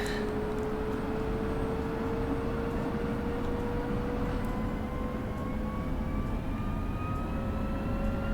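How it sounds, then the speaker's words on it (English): An F-16 jet engine in DCS World spools up toward normal idle during a cold start, a steady loud whine with rising tones over a dense, continuous roar, with no talk. "now that's going to start spooling the engine up to normal idle RPM"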